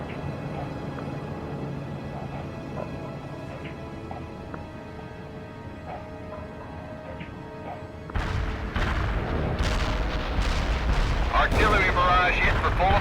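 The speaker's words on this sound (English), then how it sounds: "Heavy artillery barrage inbound." A heavy artillery barrage in a video game starts after a stretch of humming tonal background, landing as a sudden loud wall of booms and crashing impacts that keeps rolling with repeated sharp blasts.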